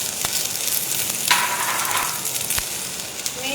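Green onion and green garlic frying in a pan, a steady close sizzle with a few sharp ticks and a brief louder flare as the ingredients hit the hot oil, no voices.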